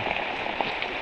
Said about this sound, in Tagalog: Nagantay pa kami mga lods kung titila yung ulan.